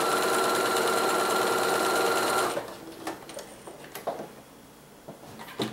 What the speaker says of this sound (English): I'm going to sew just on the outside of that marked line